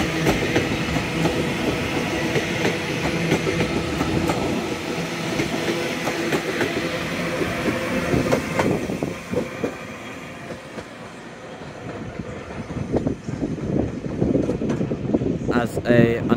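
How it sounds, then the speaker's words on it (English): A TransPennine Express Class 397, 397-011, pulls out of Manchester Piccadilly toward Manchester Airport with a rumbling roll, clicking wheels and a humming fan, easing briefly before swelling again at the close. "I believe 397-011 is leaving for Manchester Airport."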